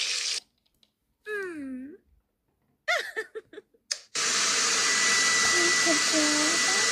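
A hair dryer in the Amy's Animal Hair Salon video game starts after a few short cartoonish vocal sounds. It blows as a loud, steady whooshing roar through the rest of the clip.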